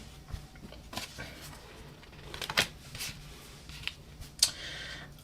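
Tarot cards are shuffled and pulled from a deck, making several brief papery flicks and snaps spaced irregularly over a quiet background.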